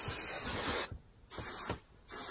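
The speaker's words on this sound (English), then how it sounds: "I'm gonna put this heat protectant in." Heat protectant hair spray hisses from a pump bottle in two short bursts, each followed by a brief pause, close and fairly quiet.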